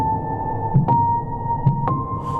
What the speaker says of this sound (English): So there's all kinds of noise and knocking that you can hear